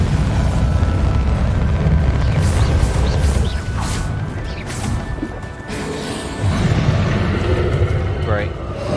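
A Bombarda blasting-spell explosion in Hogwarts Legacy, a loud crashing burst amid continuous combat noise, with someone talking over the fighting.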